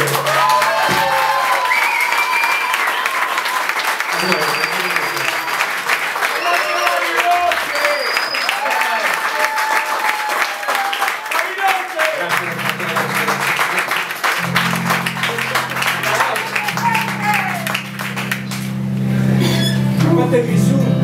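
An audience applauds and cheers at a live rock concert after a bassist is introduced, a dense, loud clapping wash lasting throughout, with scattered whistles and shouts and a few sustained guitar or bass tones near the end.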